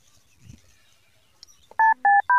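A phone dials with three loud, clean keypad tones in quick succession after a near-silent stretch holding a faint low thump and a small click.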